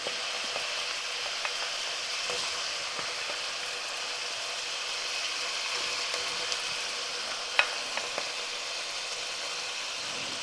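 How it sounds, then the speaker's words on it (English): Cooked chicken pieces frying with onion in a pan for okra soup, giving a steady, moderately quiet sizzle that runs continuously with a few small pops and crackles and no talking. "I have to let it fry a little bit with the onion"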